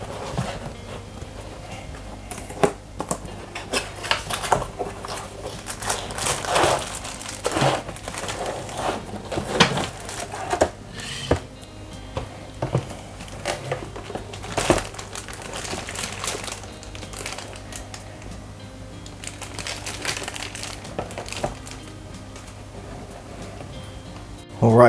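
A Boyu aquarium cooling fan is unboxed from a plastic bag and box, with intermittent crinkling, rustling and tapping handling noises throughout, close and fairly quiet.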